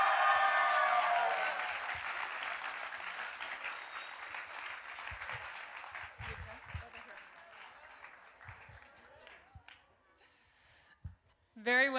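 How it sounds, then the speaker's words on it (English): An audience at an evening arts academy show in Canajoharie applauds children's performance. The clapping starts full and lively, then thins gradually to scattered claps before stopping with a final brief burst. "One more round of applause."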